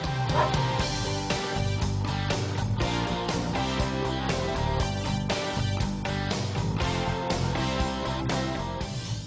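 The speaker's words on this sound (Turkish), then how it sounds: "İşte karşınıza İstanbul Emniyet Müdürlüğü polis köpekleri." Police dogs at a police canine training unit bark and yip repeatedly, partly buried under a loud, busy background that fills the whole stretch.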